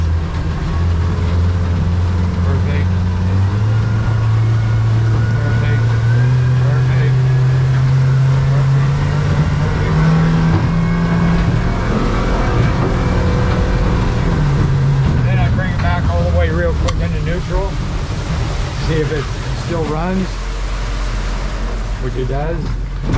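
An engine on a boat with freshly serviced, synced carburetors revs up from idle to a higher steady drone, holds, then settles back down, loud and close with someone talking over it.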